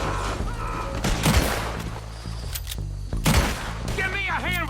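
Gunfire crackles in Red Dead Redemption 2, with sharp repeated shots and a fusillade amid shouting voices and background game noise.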